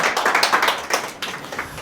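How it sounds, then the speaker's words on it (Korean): Brief burst of clapping from a congregation at a Christmas worship service in a Tokyo church, quick uneven hand claps fading within a couple of seconds. "박수 한번 치겠습니다."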